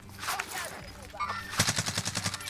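Rapid automatic gunfire in the Warzone video game sounds in quick, fairly faint bursts, with a tight string of shots near the end, under the gameplay ambience.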